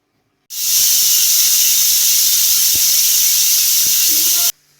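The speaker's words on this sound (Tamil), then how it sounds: "நாலு விசில் வந்துருச்சு, நீ அடுப்பு ஆஃப் பண்ணிடலாம்." A pressure cooker whistle blasts steam in one loud, steady hiss lasting about four seconds while ragi cooks on the stove, then cuts off abruptly.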